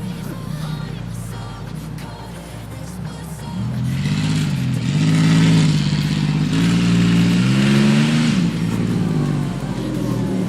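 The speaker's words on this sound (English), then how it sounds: "I wouldn't say it's fast by any means, but we do have old man Brian driving" A 1990 Pontiac 6000 AWD drives along, its engine droning steadily from inside the cabin, then rising in pitch and loudness as it accelerates midway before easing back.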